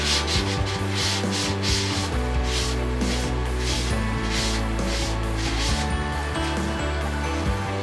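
Steady back-and-forth scraping of a chisel across the flat bed of a Longer Orange 30 resin printer, a continuous rhythmic rasp, close and even throughout.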